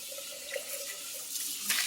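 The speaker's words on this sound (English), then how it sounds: "you can run some water on it if you like" Kitchen tap water running steadily onto a hot pot, a soft continuous splashing stream with a brief brighter gush near the end, faint and alone.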